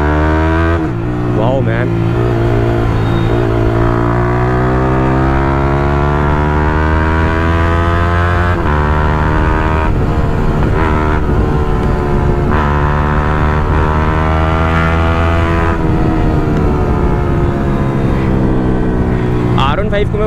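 A Yamaha YZF-R15 V3 motorcycle with a chopped Akrapovic exhaust is ridden, its loud, raspy exhaust note rising and falling through repeated revs and gear changes, with a rider's voice briefly heard over it.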